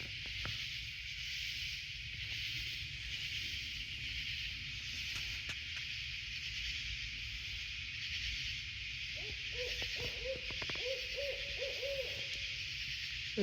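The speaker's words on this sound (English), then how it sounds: "That's one damn loud owl." A loud owl hoots at night in the woods on a trail near Shenandoah, repeated deep hoots rising from a steady hum of night insects.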